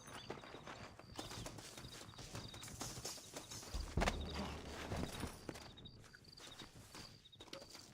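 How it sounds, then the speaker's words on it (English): Horse hooves clop along in an uneven walking rhythm in the video game Red Dead Redemption, with rustling and a brief thud midway, fairly quiet overall. "Looks like Carlos left us some horses"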